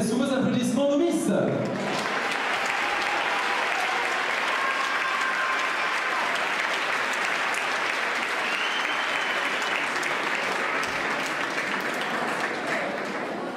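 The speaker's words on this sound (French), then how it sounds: "On va vous demander d'accueillir, s'il vous plaît, sous vos applaudissements, nos Miss." An audience at the Miss Saône-et-Loire 2014 pageant breaks into loud, sustained applause for the contestants, a dense wall of clapping that holds steady for several seconds after a brief voice at the start.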